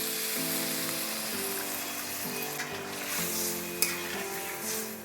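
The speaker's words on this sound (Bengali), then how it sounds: "এবার জল দিয়ে দেব।" Fried prawns sizzle and bubble softly in a pan after water is poured in, a steady low frying hiss with faint tonal hum and one small clatter, no voices.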